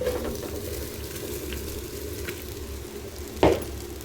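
Rice frying in a pan for spicy egg rice, a steady low sizzle throughout with one brief scrape or clink near the end, close and moderately quiet.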